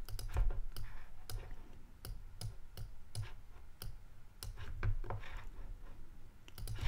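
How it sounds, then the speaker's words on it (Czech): Sharp mouse clicks while working in Ableton Live 10 software, a dozen or so irregular taps spread over seven seconds, close and fairly quiet over a low background hum, with no voices. "Kliknu na Gain Mid u první skladby."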